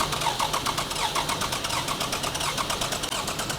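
A car engine cranks with a fast, rhythmic chugging, churning loudly and steadily as it turns over and catches.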